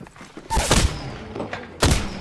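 EVA-8 shotgun fire in Apex Legends: a loud, close blast followed by a second burst, then a short pause before another sharp shot, with game ambience in between.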